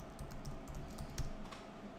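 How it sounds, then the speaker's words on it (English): Names being typed on a computer keyboard, a steady patter of quiet key clicks with one sharper tap, faint and alone. "start typing in random people's names"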